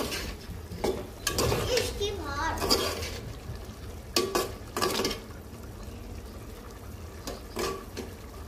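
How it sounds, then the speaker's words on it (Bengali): Malabar spinach stalks stirred in a cooking pot, with scraping and clinking of a utensil against the metal in short bursts over a low simmering background. "ঢাকনাটা উঠিয়ে একটু পর আবার নেড়ে ছেড়ে দিব"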